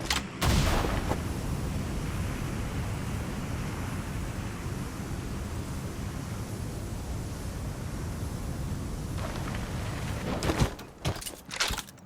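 PUBG gunfire on the Erangal map, a dense, loud burst of rapid shots blurring into one continuous roar for around ten seconds, then a few separate sharp reports near the end.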